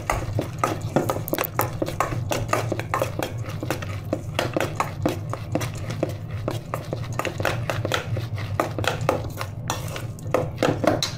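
Ingredients get stirred together in a bowl or pot with a steady run of clinking, scraping knocks of utensil against dish, close up and continuous, no voices.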